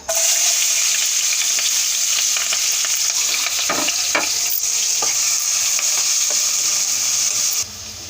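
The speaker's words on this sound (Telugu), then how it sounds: "ఇప్పుడు అదే కళాయి గిన్నెలో మనం ఉల్లిపాయ పచ్చిమిరపకాయలు కట్ చేసి పెట్టుకున్నాం కదా, ఇవి కూడా వేసేసి మగ్గనిద్దాం." Sliced onions and green chillies frying in a kadai for an okra and country-egg curry, a loud continuous sizzle with scraping stirs throughout, cutting off abruptly near the end.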